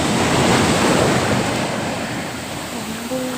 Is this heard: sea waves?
yes